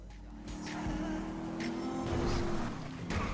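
Car engine revving and accelerating in the game GTA 5 on a beach road, a loud rough roar with a brief pitch sweep mid-way, steady and close throughout.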